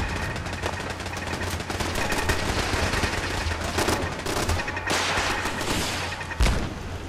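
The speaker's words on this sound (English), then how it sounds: "Who's firing rockets?" Continuous gunfire and rocket blasts in a Fallout 4 battle at a listening post, loud and dense throughout, with a heavy thump near the end.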